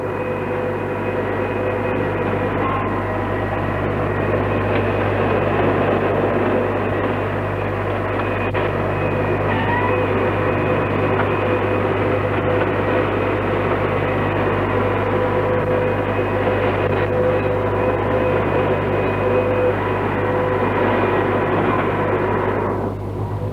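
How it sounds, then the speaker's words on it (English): An automatic bar machine runs in continuous production with cooling oil flowing, giving a loud, steady mechanical drone with constant hum and tonal whine, a few faint clicks on top, and no voices. "with the cooling oil flowing to avoid overheating, the automatic is in continuous production"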